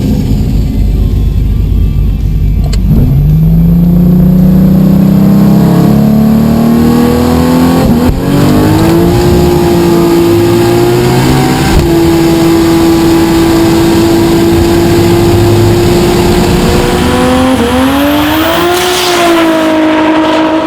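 Loud, close single-camshaft race car engine roaring and climbing in pitch, holding a high whine through sustained revs before surging again.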